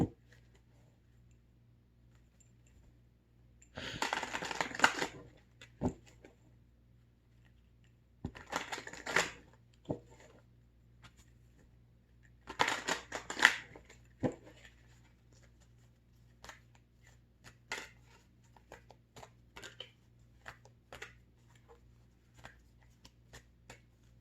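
Three brisk riffle shuffles of a deck of cards, spaced several seconds apart, with light taps and card handling in between in a quiet room.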